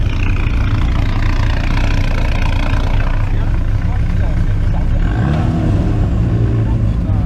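A car engine with a broken bottom end runs loudly with a rough, knocking mechanical clatter, revving slightly, with a voice speaking faintly underneath.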